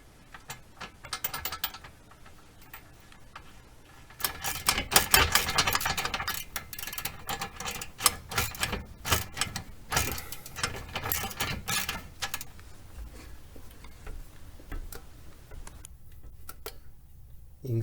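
A ratchet works on bolts of an upper rear control arm on a 1999–2004 Jeep Grand Cherokee, with rapid metallic clicking in bursts, some louder stretches, close up with clanks of metal handling between strokes.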